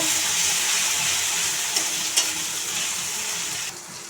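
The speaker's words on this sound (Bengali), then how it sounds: "পেঁয়াজ কুচিগুলো দিয়ে দেবো। 1 চামচের মতন আদা রসুন লঙ্কা বাটা দিয়ে দেবো। দিয়ে একটু ভালো করে নাড়িয়ে নেব।" Chopped onion and ginger-garlic-chili paste hiss and sizzle in hot oil in a pan, a close, steady fry with a light scrape or two as it is stirred, and no voices.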